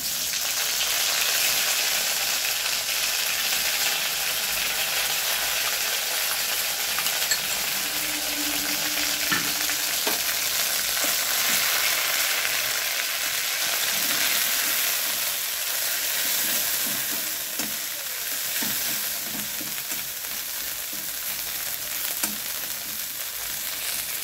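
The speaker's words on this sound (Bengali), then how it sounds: "তেলটা গরম হয়ে গেছে, এবার আমি পাতা বাটাটা দিয়ে দিলাম" Steady, loud sizzling of pumpkin leaf paste frying in hot oil, a continuous crackling hiss with a few soft stirring knocks.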